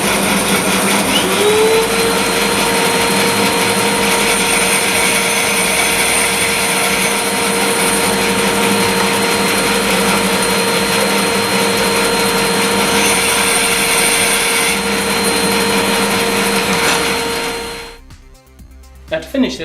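A SIP Professional bandsaw cuts tenon cheeks in wood, holding a loud, steady whine with sustained motor hum for most of the run before cutting off abruptly near the end.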